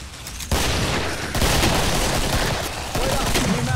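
Pistol fire in the Killing Floor video game, loud dense bursts of gunshots with sharp onsets, layered with game noise and close and harsh throughout.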